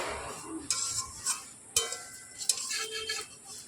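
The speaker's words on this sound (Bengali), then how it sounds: "হালকা হাতে নাড়াচাড়া করে সিমাইগুলোকে আমি এখন ব্রাউন কালার না আসা পর্যন্ত ভেজে নেব।" Vermicelli is stirred and fried in a pan over low to medium heat, giving close, soft scraping strokes and light clinks of a utensil against the pan with a faint sizzle underneath.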